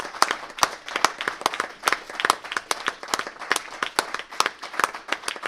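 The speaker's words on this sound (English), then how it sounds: "So we give a round of applause." Applause at a public trust board meeting. A small group claps steadily and distinctly for several seconds, close and fairly loud, with no talking.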